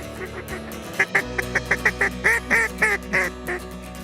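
Duck quacks and honking calls over a decoy spread at an Oklahoma duck-hunting blind: a rapid series of about a dozen loud, nasal calls with even rhythm, close by, over a low steady background hum.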